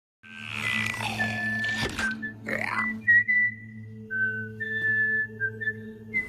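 Someone whistles a short tune of several clear, high notes, the sound alone and fairly quiet over a steady low background hum.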